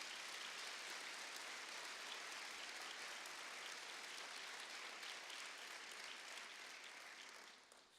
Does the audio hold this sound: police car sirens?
no